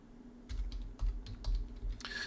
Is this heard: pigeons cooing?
no